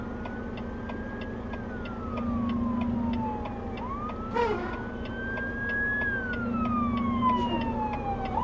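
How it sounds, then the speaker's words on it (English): An ambulance siren wails in slow rising and falling sweeps, heard from inside a 2020 Volvo VNL 860 truck cab over a steady engine drone and a regular ticking. "we were waiting for that ambulance"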